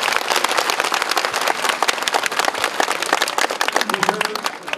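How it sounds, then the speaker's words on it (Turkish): Dense, lively clapping from a crowd at the 2011 Kabayatak festival, loud and continuous for the whole stretch, with a voice briefly heard over it near the end. "Hadi alkışlayın bakayım devralarımız."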